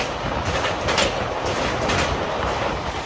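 An Indian Railways train on the Vizag route runs with a steady, loud rumble and rhythmic clickety-clack of the wheels, while another train passes close alongside; the noise is continuous and there is no talking.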